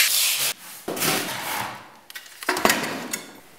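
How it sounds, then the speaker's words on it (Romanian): Old tile adhesive is scraped off a bathroom wall in several rough, raspy strokes that come close and fairly loud, with short pauses and a sharp scrape near the end. "Acum mai trebuie răzuit adezivul."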